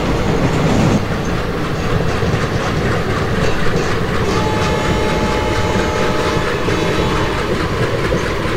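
Indian Railways passenger train from the Bhusaval–Katni run in the MSTS Open Rails simulator rolls steadily around a curve, with continuous wheel rumble, clickety-clack and faint flange squeal, loud and close throughout.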